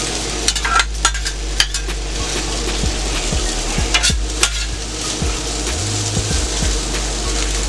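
Potatoes sizzle steadily in a hot pan, with irregular scraping and clinks of a utensil stirring and pushing them around, close and loud without talk.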